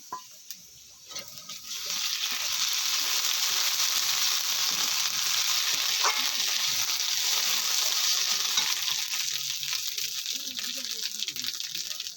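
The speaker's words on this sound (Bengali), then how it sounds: "আমি যে আদা রসুন আর কাঁচা লঙ্কাটা পেস্ট করে রেখেছিলাম সেটা দিয়ে দিচ্ছি" A paste of ginger, garlic and green chili goes into hot oil in a frying pan and sizzles loudly and steadily up close, bursting in after a quieter opening second or two and hissing on without talk.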